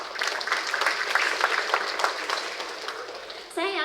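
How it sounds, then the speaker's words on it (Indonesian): Applause from a graduation audience at a university ceremony in Bandung fills the hall with steady dense clapping for several seconds, fading slightly before a voice begins speaking at the end. "Tepuk tangan."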